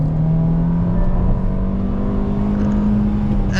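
Hyundai Creta N Line with manual gearbox pulling hard in first gear with traction control off and wheels spinning; a steady, loud engine drone with a rising tone fills the whole stretch, heard from inside the cabin.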